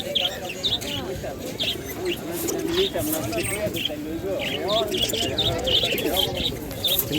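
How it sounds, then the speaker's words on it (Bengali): Pigeons of several colour varieties coo softly amid steady chirping from the flock, while voices murmur in the background. "এরকম সবুজ গলা জিরা গলা বাঘা বিভিন্ন কালারের কবুতর আছে"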